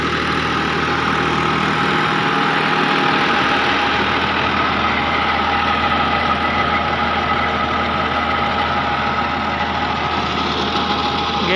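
A John Deere 5405 tractor drives an 8-foot rotavator lowered fully into farm soil, giving a loud, steady engine drone with a churning rumble that runs unbroken throughout, with no talking.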